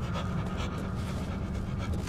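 A creature in the horror game Cry of Fear pants heavily and continuously after being killed, a steady, close breathy rasp over low rumbling game ambience.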